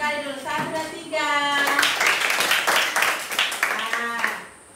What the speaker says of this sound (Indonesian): Tepuk tangan kita semua satu kali dulu.